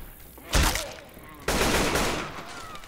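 Gunfire in the zombie shooter Left 4 Dead 2 at the Dark Carnival, with two loud, rapid bursts a second apart, each trailing off into a brief echo.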